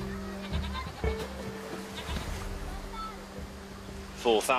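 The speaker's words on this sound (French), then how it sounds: "Même les chèvres se baignent par ici." Goats bathing in water bleat in short wavering cries over a steady engine drone and lapping water, with a voice talking alongside.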